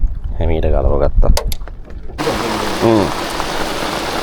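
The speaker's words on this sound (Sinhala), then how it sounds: "කොහමද වැස්ස?" Rain falls on a fishing boat out on a calm, flat sea in Larrakeyah Bay in the Top End. Someone talks first, then a loud, dense rain hiss starts abruptly midway and continues under more talk.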